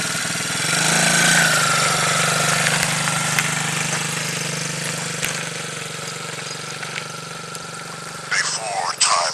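An ATV engine runs steadily as a young girl rides around, a low droning hum holding through the whole stretch with a brief rise in noise near the end.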